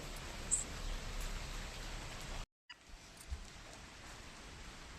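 Rain falls steadily during a cloudy spell, a soft, even patter that cuts out briefly midway and then resumes.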